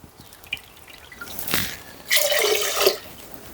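Water poured into a pot for cooking rice: faint drips at first, then a brief splash, and a louder, sustained gushing stream in the second half, with no voices.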